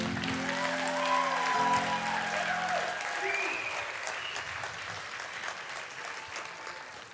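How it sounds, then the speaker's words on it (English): An audience claps for a children's Christmas performance at a day care party, a dense, sustained round of applause that slowly fades, with voices mixed in. "Let's give them another round of applause."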